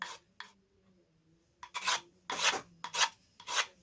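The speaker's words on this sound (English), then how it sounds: "It's not sanding equally because of the laminations of the ply." Plywood being sanded into an exhaust stack for a model aircraft gives short, close rasping strokes in irregular bursts, some faint and some louder, with quiet pauses between.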